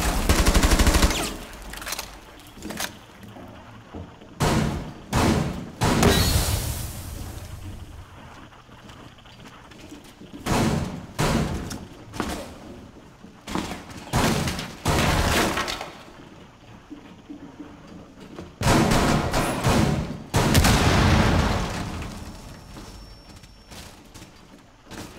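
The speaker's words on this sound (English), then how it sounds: "Ash is shooting from the other side." Rainbow Six Siege gunfire in an Oregon team deathmatch arrives as repeated sharp bursts and single cracks with gaps between them, some loud and near, others softer, with a few glassy breaking sounds mixed in.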